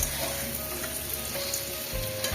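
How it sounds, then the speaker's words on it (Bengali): New potatoes, peeled and washed, frying in a pan for a potato curry give a close, steady sizzle with soft crackle throughout, with no talking. "এবার আলুগুলোকে ভেজে নেব।"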